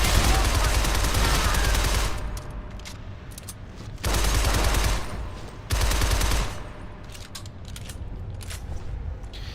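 Assault rifle fire in the video game Shadow Complex comes in loud sustained automatic bursts separated by brief lulls, with game sounds continuing underneath.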